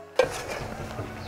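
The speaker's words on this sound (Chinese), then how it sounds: "来葱花下锅" Chopped scallions drop into a hot wok of Sichuan pickled-cabbage fish, giving a sudden soft splash and then a quiet, steady sizzle that fades over about a second, with no voices.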